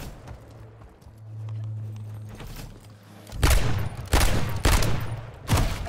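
Loud gunfire rings out in a video game gunfight, several sharp close bursts spaced about a second apart after a quieter stretch of low hum and faint movement.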